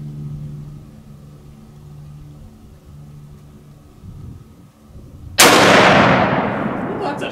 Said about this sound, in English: I'm going to shoot for the top center target.